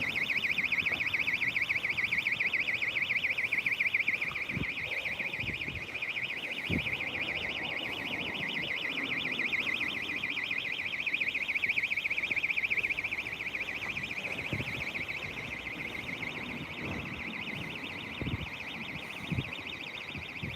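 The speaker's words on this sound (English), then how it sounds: "Somebody's house alarm's going off." A house alarm going off in a neighbourhood heard during a walk, a steady pulsing electronic tone that drones on without a break at a moderate distance, with occasional soft knocks and footsteps beneath it.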